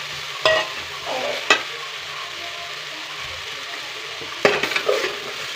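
Tomatoes frying in a pan for sprouted horse gram sambar, a steady close sizzle broken by a few sharp clinks of a spoon against the pan.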